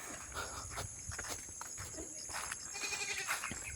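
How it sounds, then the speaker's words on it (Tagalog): Farm goats, some tied up, bleat in a few short calls at moderate distance, with light footsteps and faint crickets in the quiet rural background. "Tingnan natin yung mga kambing nila dito."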